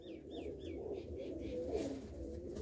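Pigeons, including a nesting pair of Lattha birds, coo in low, murmuring phrases near at hand, faint and continuous, while a few short higher chirps sound early on and no one speaks.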